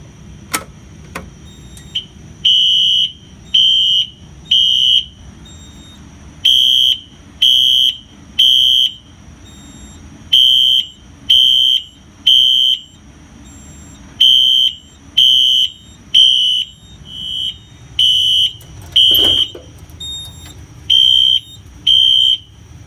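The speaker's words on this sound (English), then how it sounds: "I think we'll also do the smoke detector today because why not?" A basement fire alarm test sounds a smoke detector and fire alarm strobe-horn set at 1575 candela, giving loud repeated electronic beeps in steady bursts with short gaps for over twenty seconds, with no talking.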